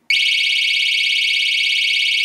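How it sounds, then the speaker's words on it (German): An Olympia home alarm system sounds a loud, piercing electronic alarm tone that starts abruptly and holds steady at constant volume for about two seconds before cutting off. "Es ertönt sofort ein lauter Alarm."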